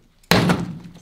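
A single sharp crash as a fake phone is slammed against a table, loud and close, with a brief rattling decay afterward and no talk.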